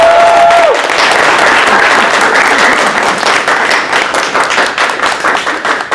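Audience applause for the class of 2026 at a live event, a dense, loud, sustained wash of clapping from a crowd that holds steady across the whole stretch, with a brief tone near the start.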